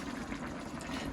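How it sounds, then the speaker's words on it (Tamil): Water pours steadily into a large pot of mutton biryani being cooked outdoors in a garden, a continuous rushing splash with no talk over it. "தண்ணி பத்தலைன்னா கொஞ்சம் தண்ணி ஊற்றிக்கோங்க,"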